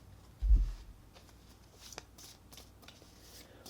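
Oracle cards with animal images get shuffled by hand: one soft riffle-like burst near the start, then faint, scattered papery flicks and slides at a close, quiet level, with no voices.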